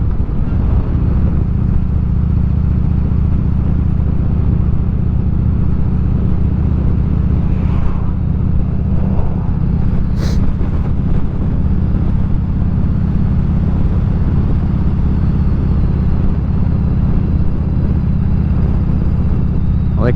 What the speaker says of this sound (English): This isn't a sport bike, it's a touring bike.